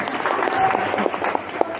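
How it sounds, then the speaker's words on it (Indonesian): Audience at a seminar gives a short, dense round of applause, close and steady for a moment, with a few voices mixed in. "Tepuk tangan buat saya."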